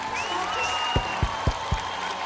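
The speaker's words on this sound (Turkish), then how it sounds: "Çok alkış, çok alkış." Studio audience on a Turkish TV show applauding, a light continuous clapping under a sustained tone, with several louder distinct claps near the end.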